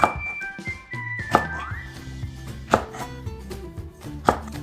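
Knife cutting cucumber, Korean melon and garlic scapes on a board for pickles, a few distinct sharp chops spaced about a second apart over quieter background noise, no talk.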